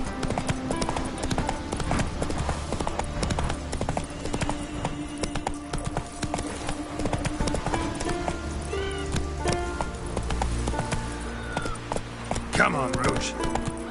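Galloping hooves of the horse Roach in The Witcher 3, a steady clip-clop rhythm running throughout with a brief whinny, under a voice talking and spoken dialogue.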